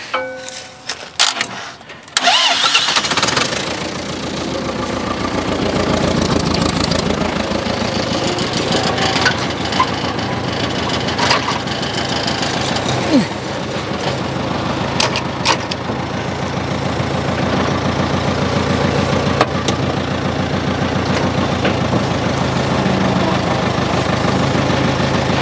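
A cheap telehandler's engine cranks and catches after a brief quiet start, then idles steadily and loudly at close range with a rough, knocking diesel-like rumble for the rest of the time.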